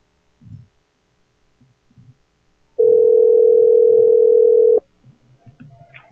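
A single long steady ringback tone sounds loud and clear for about two seconds on an outgoing telephone call, with faint line noise and small clicks before and after.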